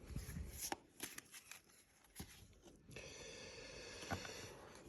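Oracle cards being drawn and handled from a deck during a divination reading: a quiet run of soft papery slaps and shuffling flicks, sparse in the first half and then a steadier light rustle, close and faint with no talking.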